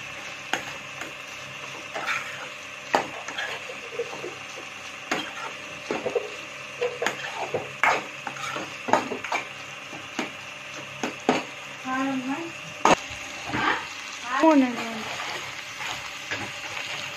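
Prawns for a curry sizzle steadily in a pan while a spoon scrapes and stirs them in sharp, irregular clacks. A voice speaks faintly at times.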